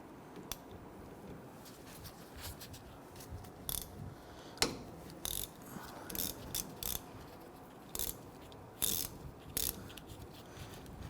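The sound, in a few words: 14mm socket ratchet loosening brake caliper slider pin bolts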